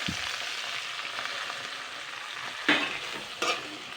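Malabar spinach seeds, cut potato and lentils frying lightly in a pan give a soft steady sizzle close by, with two sharper scrape-and-stir bursts near the end and no voices.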